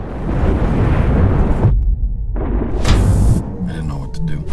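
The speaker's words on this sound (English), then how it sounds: "The explosion blasted open the hull." A heavy, rumbling blast tears open a spaceship hull in a sci-fi film, a loud sustained roar that drops out briefly, then surges again with a sharp hiss and crackle.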